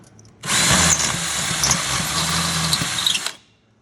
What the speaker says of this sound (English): what I'm doing is I'm just using this step bit